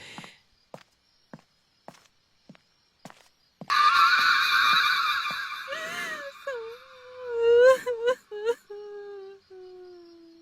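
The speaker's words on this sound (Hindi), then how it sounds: "कहीं पास से रोने की आवाज आई," A sound effect of someone crying in pain follows a run of single footsteps, then a long, loud, broken wailing moan rises and falls before fading.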